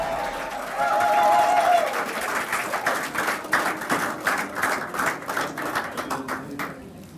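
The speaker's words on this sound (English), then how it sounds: "So a round of applause" An audience at an official medal ceremony breaks into applause, a sustained patter of clapping that rises quickly and then trails off irregularly over several seconds.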